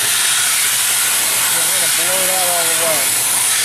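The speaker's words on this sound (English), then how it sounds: "You might hear the compressor as I'm blowing this." Compressed air hose blowing during annual maintenance on a commercial refrigerator, a steady loud hiss filling the clip while a compressor runs underneath, with a faint tonal whine rising partway through.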